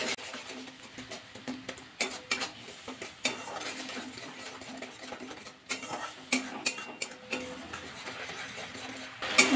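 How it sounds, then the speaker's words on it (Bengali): A spoon scrapes and clinks against a pan while brinjal curry with poppy seeds cooks over low gas, the stirring coming in irregular bursts of close scraping and light metallic taps with a faint sizzle beneath. "আবার একটু নাড়াচাড়া করে নেব।"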